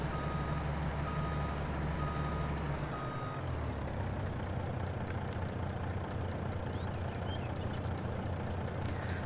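Truck reversing beeps in Farming Simulator 22, a steady repeating electronic tone over a constant engine drone, with a low engine note dropping away partway through; no talking.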